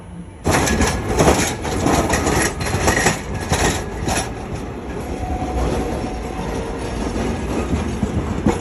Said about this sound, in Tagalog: The train in the middle of the road.